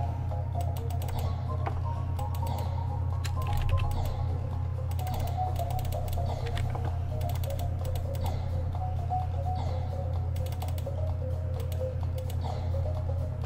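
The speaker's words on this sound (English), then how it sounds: "Click, click," Rapid, irregular clicking from playing Geometry Dash, sharp ticks scattered throughout over a steady low hum, with no talking.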